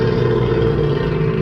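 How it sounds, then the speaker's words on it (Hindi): A crocodile near water gives a low, rumbling growl, a steady, loud and close drone that holds without a break, with no voices. "ये एक क्रोकोडाइल की आवाज थी जो आपको कभी भी कच्चा चबा सकता है"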